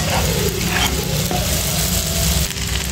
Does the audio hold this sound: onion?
yes